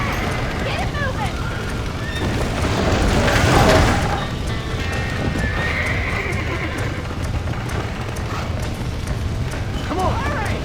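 Horses neighing and whinnying with hoofbeats clattering in Red Dead Redemption, a busy mix with a loud swell around the middle, shouting voices over the animals throughout.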